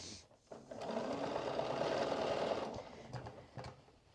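A sewing machine runs a steady burst of stitching along a vest seam for about two seconds, close and clear, then slows and stops, followed by a few soft fabric-handling clicks.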